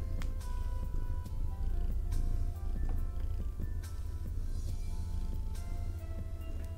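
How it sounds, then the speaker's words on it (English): A purring cat rumbles close and low, steady and continuous with faint rhythmic pulses and no talk over it. "I don't know if you could hear that, but she was purring."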